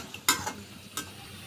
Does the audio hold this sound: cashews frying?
yes